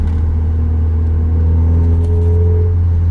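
An MG TF 135 roadster drives with its soft top down, its engine giving a loud, steady low drone with a faint rising whine over the wind.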